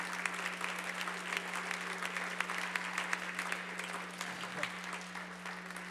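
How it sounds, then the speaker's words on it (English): Congregation clapping hands during a Sunday night church worship service, steady continuous applause over a constant low hum, fairly distant and even throughout. "Clap your hands to the Lord on Sunday night."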